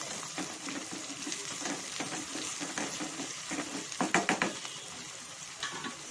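Amaranth leaves (thotakura) lightly frying in a pan, with a continuous soft sizzle and repeated stirring scrapes and clatters, a quick burst of utensil taps near the end.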